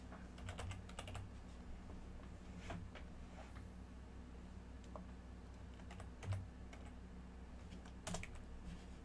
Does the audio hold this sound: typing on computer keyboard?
yes